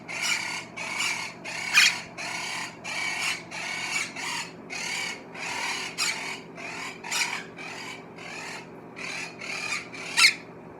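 Rhythmic scrubbing of a Quaker parrot's cage: about fifteen repeated bursts of rasping, scraping strokes, close and moderately loud over a faint steady hum, with no voices.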